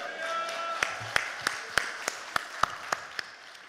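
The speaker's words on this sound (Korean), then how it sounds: "할렐루야로 하나님 앞에 영광의 박수 올려드립니다" A church congregation claps, but only a sparse run of about a dozen distinct, fairly evenly spaced claps stands out over a quiet room with faint tonal sound behind.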